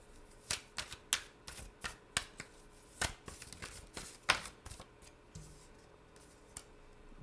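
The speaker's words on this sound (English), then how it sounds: "Y'all saw me just shuffle." A deck of tarot cards is shuffled, producing a run of sharp, close riffling snaps and clicks at an irregular rhythm, followed by a quieter stretch.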